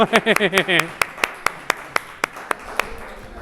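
A voice briefly, then roughly nine slow, evenly spaced hand claps ringing out clearly in a reverberant room.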